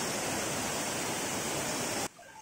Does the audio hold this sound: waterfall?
yes